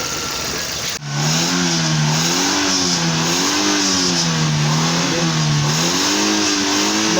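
A 2005 Mitsubishi Lancer engine fitted with a hydrogen kit, loud and close, revving up after a brief dip, then holding a rising and falling drone as the throttle is worked.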